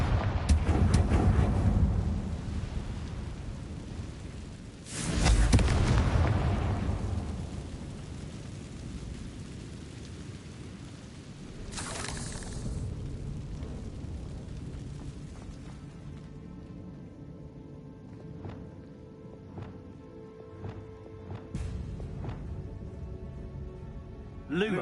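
Confringo fire spell exploding in the video game Hogwarts Legacy: a loud burst at the start and a second heavy blast around five seconds, each with a rumbling decay, then a further crackling hit, alone with no talk.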